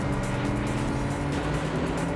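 A purple Mini driving in the PS1 racing game Vanishing Point, its engine giving a steady, loud, buzzing drone with no talking.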